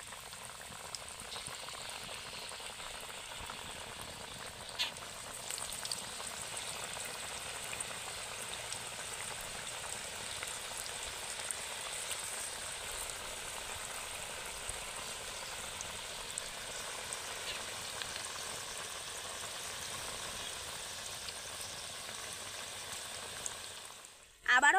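Cabbage pakoras in gram flour and rice flour batter deep-frying in hot oil, a steady bubbling sizzle that holds evenly for about twenty-five seconds with small pops, ending in a brief louder clatter.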